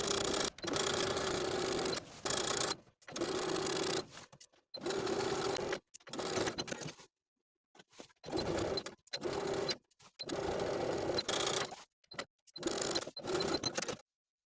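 A sewing machine edge stitches close to the folded edge of a skirt waistband, whirring in close, loud bursts of rapid stitching separated by short pauses, some runs long and some brief.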